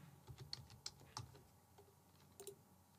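A name goes into an online e-signature agreement form on a computer keyboard: soft, close key taps in small irregular clusters over a quiet room.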